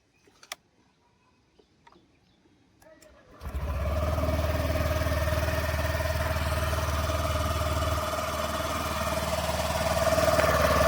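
A Honda Activa 6G Deluxe scooter starts after a few quiet clicks, its small engine catching and settling into a steady, smooth idle close by, with a slight rise near the end.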